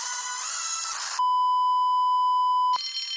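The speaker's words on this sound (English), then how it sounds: "Soon came the alarm." A single steady electronic alarm beep holds for about a second and a half, loud and clear, between noisier bursts of sound before and after it.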